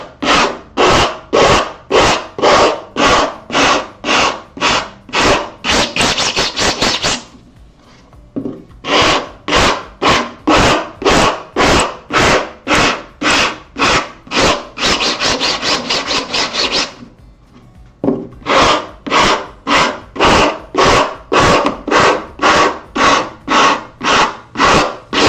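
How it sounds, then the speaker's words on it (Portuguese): Wood being sanded by hand with long, steady back-and-forth rasping strokes, loud and close, in repeated runs separated by brief pauses. "essa parte que a gente já pode lixar"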